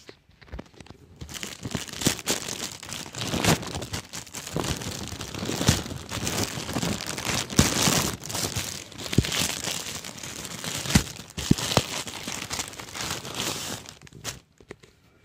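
The paper packaging of a mailed credit card crinkles and tears as it is opened, a steady, close rustling with scattered sharper crackles and no talking.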